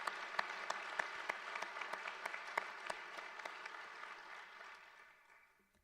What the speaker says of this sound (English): If we could all just give a round of applause for this amazing group